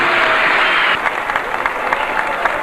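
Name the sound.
audience applause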